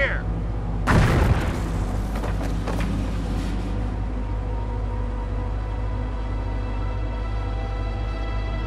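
A mortar explosion in the video game Company of Heroes, one loud booming blast followed by a few smaller cracks over a steady low rumble of battle ambience.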